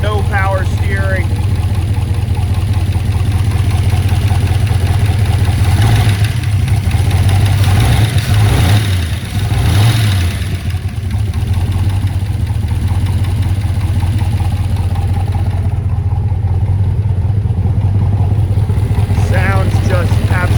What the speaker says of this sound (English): L71 427, 435 horse with Tri-Power.